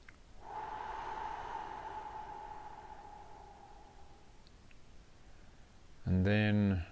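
One long, slow, deep breath rises and fades over several seconds during a guided relaxation, soft and close over faint room hiss, and a short burst of talking follows near the end.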